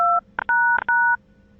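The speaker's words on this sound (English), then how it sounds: "I'm hearing some dialing going on." Telephone keypad dialing tones beep several times in a quick uneven sequence, short clear electronic pulses of differing pitch on a phone line, then silence.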